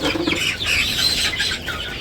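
Chickens in a village coop cluck and squawk continuously at close range, with a busy overlapping chatter of birds and some wing movement.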